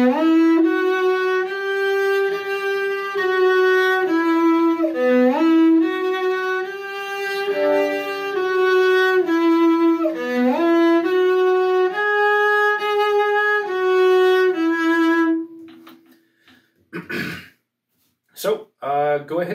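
A cello plays a Suzuki Book 3 positioning etude as a sustained, bowed, singing melodic line that shifts between positions for about fifteen seconds, then stops, followed by faint breaths and handling noises.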